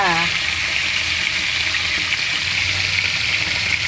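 Steady broadband sizzle of fish frying in hot oil, loud and close, running continuously throughout.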